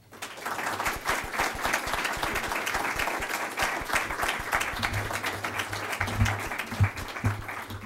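Sustained audience applause welcoming a speaker at an event on the Hungarian-Austrian border after the fall of the Iron Curtain, a thick steady roar of many hands clapping, with a brief murmur toward the end.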